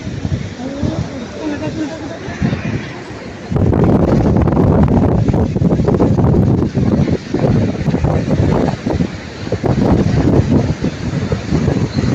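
Strong wind at a beach in Kozhikode buffets the microphone in a rough, roaring rush that surges louder partway through and stays gusty, with faint surf underneath.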